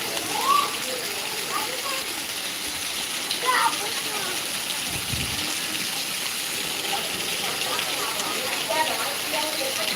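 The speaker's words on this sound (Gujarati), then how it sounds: "અમારે ખાંભામાં અડધી કલાકથી વરસાદ ચાલુ છે" Steady heavy rain pours down in Khambha, a continuous wash, with splashing water close by and faint voices in the background.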